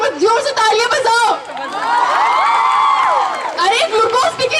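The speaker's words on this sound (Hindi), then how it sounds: "एक बार जोर से तालियां बजाओ।" Girls cheering and whooping at a freshers party at a girls' school, a long rising collective shout of voices framed by bursts of lively excited chatter, close and loud, with little distinct clapping.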